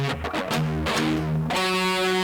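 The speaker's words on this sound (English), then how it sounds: "It uses a lot of open 6-string pedal tones, which are palm-muted." Distorted electric guitar chugs palm-muted open low E pedal tones between fretted notes in a hard-rock riff, choppy repeated hits giving way to a ringing sustained chord.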